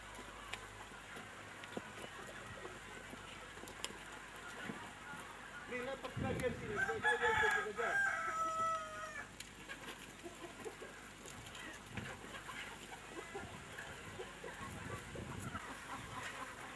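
Chickens cluck and crow around a farmyard, a louder burst of calls standing out midway against a steady outdoor background where people talk quietly now and then.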